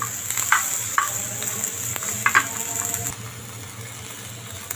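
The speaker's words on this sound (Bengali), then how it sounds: "দিয়ে দেব পেঁয়াজ রসুন আর কাঁচা লঙ্কা এগুলো ভাজি করে নেবো" Onion, garlic and green chilli frying in a pan give a soft, continuous sizzle, with a few light stirring clinks and scrapes near the start and middle before the sound quietens.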